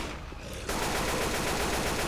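Sustained rapid automatic gunfire aimed at the Tank in Left 4 Dead 2, a loud dense stream of overlapping shots that thickens into a continuous barrage.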